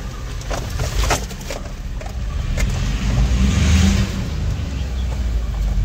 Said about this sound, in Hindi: ये रिवर्स में चल रही है गाड़ी